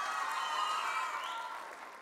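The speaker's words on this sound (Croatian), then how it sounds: "Dajte jedan pljesak," An audience claps together at a spiritual music festival in Zadar, producing a brief burst of steady, close applause that slowly fades, with no voices over it.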